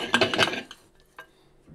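A pressure cooker lid is set on and closed over soaked toor dal, giving a quick cluster of metallic clinks and scrapes up close, then a couple of fainter taps.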